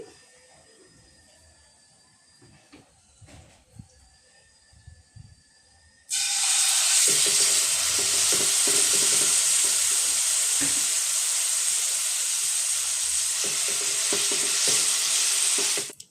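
Tamarind dropped into hot mustard oil tempered with panch phoron: after a few quiet seconds of light clinks, a sudden loud, sustained hiss and sizzle bursts up and continues steadily with stirring until it cuts off.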